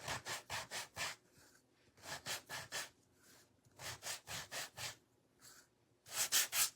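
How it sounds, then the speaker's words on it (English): A wooden quilt block being hand sanded with the grain: quiet, rhythmic back-and-forth scratchy strokes in groups of four or five, with short pauses between the sets. "sand with the grain of the wood"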